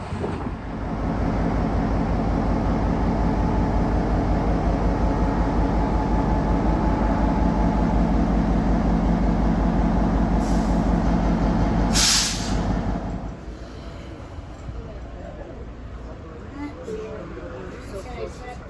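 A steady, loud rumble of a Gettysburg Railway train in motion with rhythmic rail clatter, fading to quieter ambient noise near the end.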